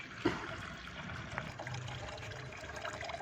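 Liquid waste trickles out of a homemade kitchen biogas plant after two to three litres of water are poured in at the top: a faint, steady dribble with no voices.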